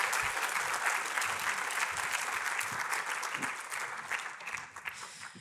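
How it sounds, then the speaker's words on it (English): An audience claps for panel speakers at a conference, a dense, sustained round of applause that tapers slightly toward the end. "You can give them a round of applause,"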